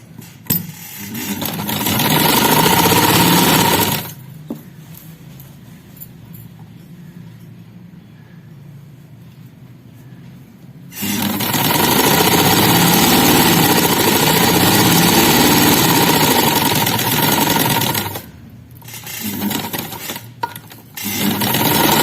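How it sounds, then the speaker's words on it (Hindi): A sewing machine stitching a small child's guddi-cut shalwar runs in two long, loud bursts of steady motor whir. The bursts are separated by quiet pauses, and a few short starts come near the end. "पहले हम इसकी सिलाई करेंगे।"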